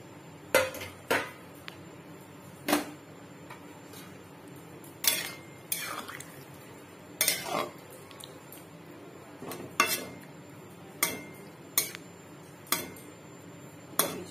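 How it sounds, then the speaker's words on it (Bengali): Cashews and raisins going into a simmering papaya chutney, with sharp metallic spoon taps and clinks against the pot about a dozen times at irregular intervals over a quiet background. "আর এখানে কাজু কিশমিশ নিয়েছি, এগুলো দিয়ে দিচ্ছি এতে।"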